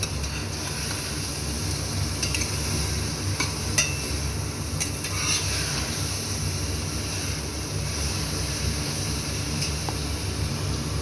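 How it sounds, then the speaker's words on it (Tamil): Chopped carrots and capsicum frying and being stirred in a pot for pav bhaji, a steady close sizzle with occasional scraping of the spoon, no talking. "இது எல்லாத்தையும் நல்லா ஃப்ரை பண்ணிக்கலாம்"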